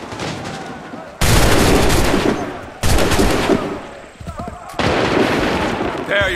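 Musket volleys in Assassin's Creed 3 crack out in three loud broadband blasts, each one a sudden massed discharge that decays over about a second. Faint shouted commands come between them.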